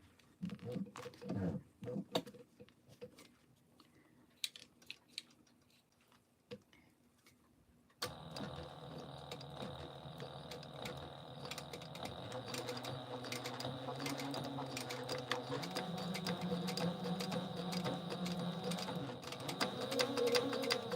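A sewing machine top-stitches a Mini Scout garment. Quiet handling clicks and taps come first, then a steady motor whir runs on continuously and grows slightly louder.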